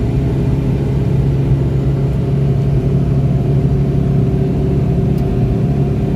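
Cabin noise inside a Changan Karvaan driving on a motorway with the air conditioning on, a steady low engine and road rumble that holds evenly throughout with no talking.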